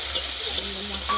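Onions that have turned reddish fry in a pan with ginger and garlic, hissing with a loud, close, steady sizzle and scraped by stirring.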